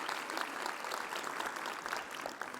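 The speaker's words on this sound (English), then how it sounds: "Let's give her another round of applause." Audience applause at a charity luncheon event, a dense, steady wash of many hands clapping for the full stretch with no voices above it.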